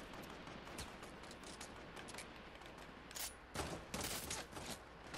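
Gunfire in the game Fortnite during a squads match, quiet bursts of rapid shots under steady background noise, with a few sharper, louder volleys toward the end.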